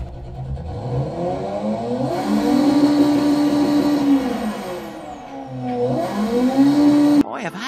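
A hypercar engine in the BeamNG driving game revs up and settles twice, rising to a sustained high howl and dropping back, loud and close, with a sharp cut near the end.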